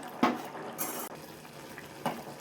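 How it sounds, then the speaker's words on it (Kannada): Vermicelli payasa boiling in water in a pot: a few brief splashy bubbling bursts over a quiet liquid background, close and fairly soft. "ಚೆನ್ನಾಗಿ ಕುದೀತಾ ಇದೆ"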